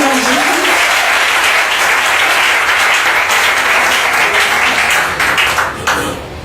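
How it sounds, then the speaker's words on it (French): An audience at a gathering in Abidjan breaks into loud, dense applause close by that holds steady for about six seconds before tapering off at the end, with a voice faintly under the clapping. "Ah, applaudissez l'applaudissement, c'est un ange."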